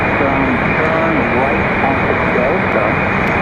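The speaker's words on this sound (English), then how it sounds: "There's our PC-12." A Pilatus PC-12 turboprop at Raleigh-Durham airport gives a loud, steady broadband roar throughout, with a voice talking over it.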